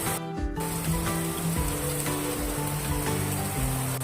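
Onions frying in a pan for chicken noodles give a steady, close sizzle that runs the whole time, with a faint humming tone underneath.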